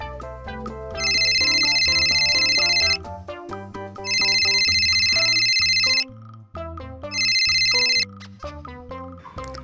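A phone ringtone plays in three loud bursts, each about two seconds long, with a melodic tune continuing between the bursts and no talk.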